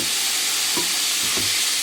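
Bacon fries in a pan with a loud, dense, continuous sizzle and crackle, a couple of soft stirring knocks underneath, no voices.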